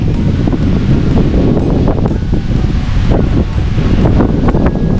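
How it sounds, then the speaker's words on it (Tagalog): Loud, gusty wind at a lakeside park on Lake Erie in Westlake, Ohio roars and rustles constantly against the microphone, with no voices heard. "Ang hangin."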